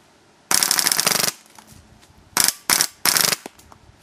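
Loud mechanical rattling bursts of a paintball hopper rotor on an Ego 5 marker with problems: one long buzzing run, then three short bursts, close by with quiet gaps between.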